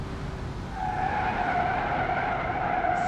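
Tires screech in a sustained skid as a Hyundai mod car brakes hard in BeamNG.Drive, a loud, steady squeal that holds for several seconds over the rumble of the car.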